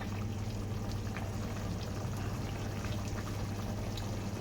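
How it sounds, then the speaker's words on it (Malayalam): Chicken curry with vegetables bubbles in a pot at a rolling boil, giving a steady, dense simmering hiss with no pauses. "നല്ല പോലെ തിളച്ചിട്ടുണ്ട്"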